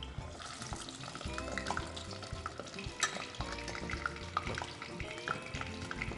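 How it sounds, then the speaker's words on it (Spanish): Chicken thigh and leg pieces sizzle skin side down in hot oil, a steady close crackle and spatter with occasional louder pops and scraping stirs. "voy a poner las piezas de pollo con la piel hacia abajo, como podemos ver aquí, para que se empiecen a dorar un poquito"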